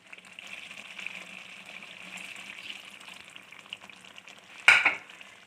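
Water poured into chicken korma frying in a pan: a steady sizzle and stirring, then a sharp, loud burst of hissing near the end as the water hits the hot oil.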